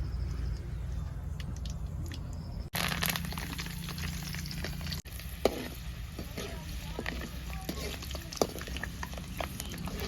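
Garlic fries in sesame oil with soft sizzling and crackle running steadily at low volume, with occasional stirring scrapes and brief knocks.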